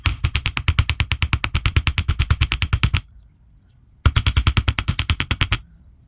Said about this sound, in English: I'm just going to hammer the sides and around.